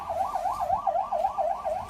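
An ambulance siren wails in a steady, rapid up-and-down sweep, loud and fairly near, repeating about five cycles with a faint background rumble and no speech.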